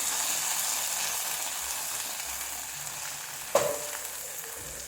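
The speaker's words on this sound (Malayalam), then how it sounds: "ഇനി നമുക്കത് പായസത്തിലോട്ട് ഒഴിച്ചു കൊടുക്കാം" A hot fried garnish poured into Kerala-style carrot payasam made with milk: a steady, moderate hiss holds throughout, and one sudden sharp sizzling burst comes near the end as it hits the pudding.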